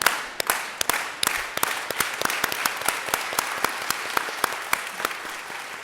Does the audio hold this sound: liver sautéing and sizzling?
no